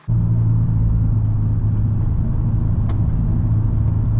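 Subaru WRX VB turbo engine and exhaust on a mountain pass drive, a steady loud low rumble droning throughout from inside the cabin, with no voices.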